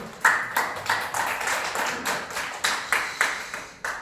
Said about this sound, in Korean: 박수로 시작해볼까요?